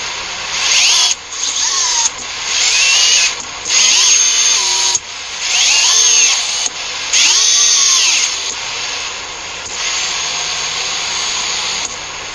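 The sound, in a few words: drone motors running with rough, salt-pitted bearings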